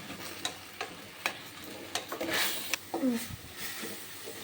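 Gongura (sorrel) leaves fry in a pan, a soft sizzle broken by sharp scrapes and clacks of stirring that come at uneven intervals, with a few faint incidental noises mixed in.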